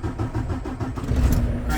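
A semi truck tractor's diesel engine being started during a pretrip inspection, with a loud, close, rhythmic cranking churn that rises toward a rumbling catch near the end.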